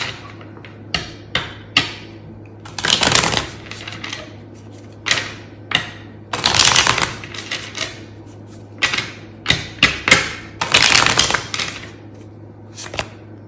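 A deck of tarot cards is shuffled and drawn, with sharp single taps and slaps of cards against a surface broken by three longer riffling bursts, close and crisp with no talking.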